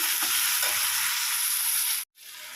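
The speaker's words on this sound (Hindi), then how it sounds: "पहले टमाटर को पका लेती हूँ, थोड़ा नमक दे देती हूँ" Tomatoes with salt sizzle and fry steadily in a pan, a loud continuous hiss close by, broken by a brief cut near the end.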